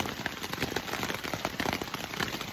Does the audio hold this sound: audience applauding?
no